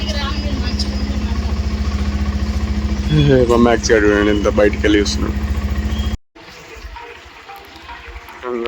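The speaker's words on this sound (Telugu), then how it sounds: "bike on చేసేసినాం" A motorcycle idles with a steady low, even engine thrum while a person talks over it, then the sound cuts abruptly to quieter background noise near the end.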